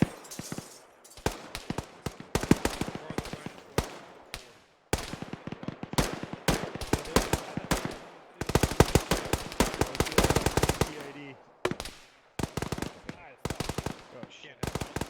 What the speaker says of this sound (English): Someone's taking pot shots at me.